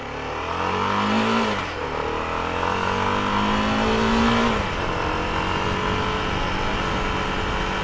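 A CF Moto 300SR motorcycle accelerates hard on a test run, its engine note rising loud and close through the gears with two audible dips at the shifts, then holding a strong drone.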